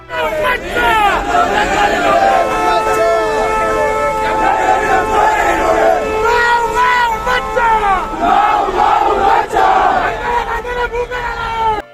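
Huge mourning crowd at Oommen Chandy's funeral procession, a loud, close mass of voices raising chants and shouts in overlapping waves, with nothing else underneath.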